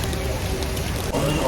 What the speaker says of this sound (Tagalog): Grabe, ulan talaga kung ulan.